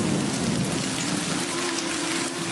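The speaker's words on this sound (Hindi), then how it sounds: "मूसलाधार बारिश होने लगी" Torrential rain with thunder as a story sound effect, a dense, loud, unbroken roar of downpour with a low rumble beneath, no voices.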